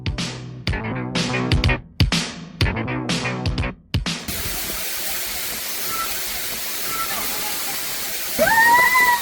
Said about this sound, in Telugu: జ్వాలా నరసింహస్వామి గుడిపై ఉన్న వాటర్ ఫాల్స్